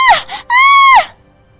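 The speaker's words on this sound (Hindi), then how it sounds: "वो जोर जोर से चिल्लाने लगती है" A cartoon woman screams loudly twice, a short cry followed by a longer, sustained wail that falls off at the end, alone and close up.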